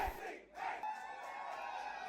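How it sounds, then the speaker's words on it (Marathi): A crowd in Kankavli shouts slogans in celebration of an election win, a dense roar of many voices heard from a distance, steady and unbroken for a couple of seconds. "घोषणा देत कणकवलीतील परिसर दणाणून सोडला"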